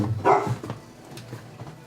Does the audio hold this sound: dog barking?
yes